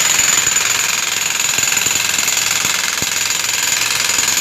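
A backhoe-mounted breaker pounds through the old concrete floor and walls of a koi pond under construction, giving a loud, continuous, close-up hammering roar with sharp knocks throughout.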